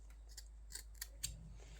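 Scissors snip a chunk of model railway hedge material, giving a few faint, close, crisp clicks in quick succession against a quiet background hum.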